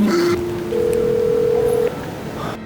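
An outgoing telephone call to an architect's office rings back with a steady electronic tone that shifts pitch once and then holds for about a second before cutting off. It is clear and fairly loud, with no talk.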